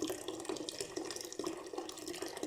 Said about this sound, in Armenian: Ավելացնում եմ տաք ջուր,